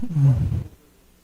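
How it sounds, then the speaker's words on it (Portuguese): A howler monkey call captured by a recorder in a forest reserve: a short, deep, rough roar lasting under a second, then trailing off into quiet. "Esse primeiro som que vocês ouviram é o bugio"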